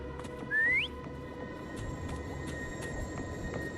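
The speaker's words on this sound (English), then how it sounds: "Try whistling." A single rising whistle from a character in the Wuthering Waves video game, short and clear, over a steady bed of in-game ambient hum and faint clicks.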